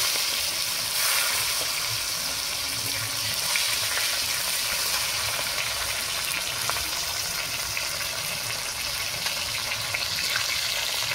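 Chopped tomato added to whole spices sizzling in hot oil, with cardamom, cumin and cloves, giving a loud, steady frying hiss with faint stirring scrapes, close and continuous, without talk.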